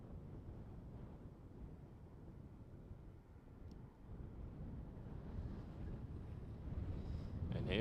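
KLM Boeing 777-200 heavy jet departing runway 36L at Amsterdam Schiphol at night, a steady low engine rumble that swells and grows louder toward the end, heard from a distance with wind buffeting the microphone.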